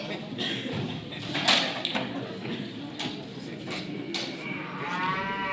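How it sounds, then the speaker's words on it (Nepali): A cow moos several times, a low drawn-out lowing close by, with faint voices and farmyard noises in the background. "गाई बस्तु घोकाएछ"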